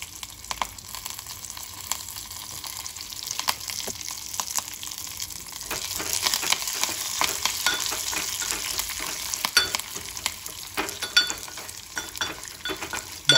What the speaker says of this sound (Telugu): బాగా వేగాలండి పోపు అయితే.